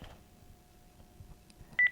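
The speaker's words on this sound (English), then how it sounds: "did I hang this phone up properly?" A Panasonic telephone being hung up, heard as a soft low hum with faint handling clicks, then two short bright keypad beeps close together at the end.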